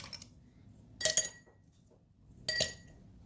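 Ice cubes dropped into a drinking glass before a banana milkshake is poured, two sharp clinking bursts about a second and a half apart, close and clear over quiet room tone.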